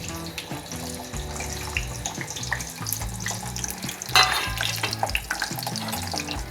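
Steady crackling sizzle of hot oil in a pan while cooking baby potatoes, continuous and close, with a brief louder burst partway through.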